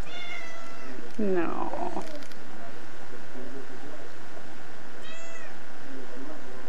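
A real house cat lets out a loud, strained meow near the start and a shorter, fainter one near the end, with people talking around it in a noisy home setting.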